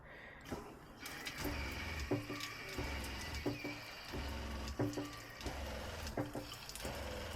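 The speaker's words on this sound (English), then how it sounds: "Water's coming through and the pump is cycling" Water running from a tap in a Renault Master camper van conversion while the pump cycles, faint gushing with repeated short pulses and knocks at an uneven rhythm, quiet and nearby without talk.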